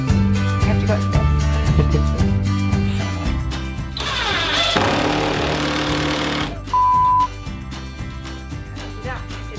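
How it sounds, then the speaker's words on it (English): A power drill bores through wood and then metal during a camper van build. The motor whines close and loud, stepping up and down in pitch, with a harsher grinding stretch in the middle before the whine returns. "and then you need to drill through the metal."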